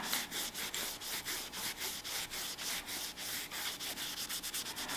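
Black marks being rubbed off an aluminum Olight flashlight: rapid, regular back-and-forth scrubbing strokes, close and even, continuing steadily with no voices.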